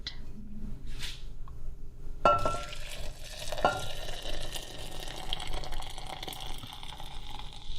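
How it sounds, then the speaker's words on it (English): Steady boiling water pouring and bubbling over soap pieces in a container, a continuous close liquid rush with a couple of sharp knocks partway through. "pour the boiling water over the soap pieces"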